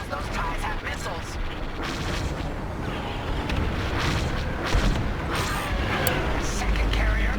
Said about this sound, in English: Second carrier goes up in flames.